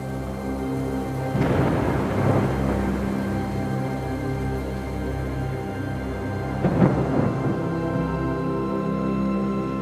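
A tropical thunderstorm: steady rain hisses throughout while two deep rolls of thunder rumble up, one early and one later, each swelling and fading.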